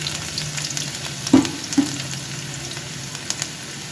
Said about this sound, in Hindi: लहसुन डाल देंगे और लहसुन को हम लाइट ब्राउन करेंगे